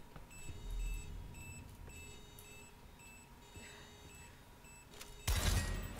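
Beeping in Daymare 1994 Sandcastle, a faint regular series of short high electronic beeps repeating steadily, with low thuds underneath and a loud sudden burst of noise at the end.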